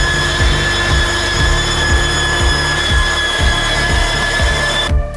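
A large industrial cutting machine in a metal forging plant works through forged iron rods, giving a loud, steady mechanical grind with evenly spaced heavy clunks repeating about twice a second, close up and with no voices over it.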